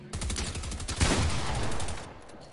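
Rapid bursts of gunfire in the video game Fortnite, a dense run of repeated shots at fairly steady loudness, with a heavier burst around the middle and the firing thinning toward the end.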